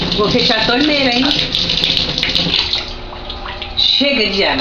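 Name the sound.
water running from a tap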